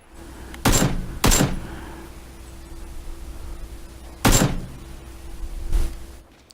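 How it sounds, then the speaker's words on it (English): Four sharp gunshots in PlayerUnknown's Battlegrounds crack out one at a time at irregular gaps, two close together early and two more later, with faint background hum between them. "But somebody else is shooting at him too."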